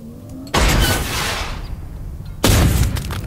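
Two loud missile launches and blasts in the Worms video game, one early and one near the end, each a broad roaring burst that tails off.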